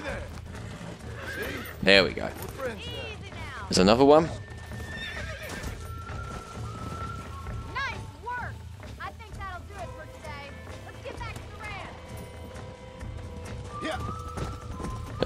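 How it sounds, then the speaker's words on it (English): Horse in the video game Red Dead Redemption, with two loud whinnies near the start and steady clip-clop hoofbeats beneath, while someone talks over the game sounds. "Hope I can stay on this horse."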